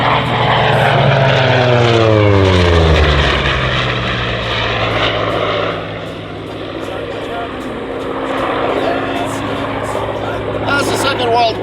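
A Hawker Sea Fury propeller aircraft flies at a London airshow, its loud droning piston engine sweeping past with a falling pitch, then fading to a steadier distant roar, while a commentator talks over it.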